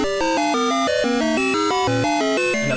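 Chiptune music from the pirated, unofficial 2004 Sega Genesis game Crazy Bus: loud, harsh square-wave notes jumping erratically in pitch in rapid, tuneless succession, playing alone without pause.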